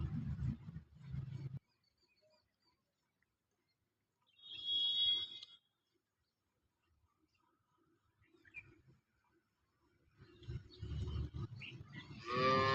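A cow mooing, a couple of low drawn-out calls at the start and end, with a shorter call and faint rustling between quiet gaps.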